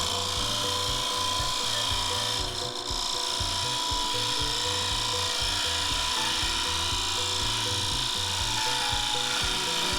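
A woodturning tool smooths ridges on a spinning redgum and epoxy bowl, giving a steady, rhythmic rasping scrape that repeats evenly throughout, with only a brief dip partway in.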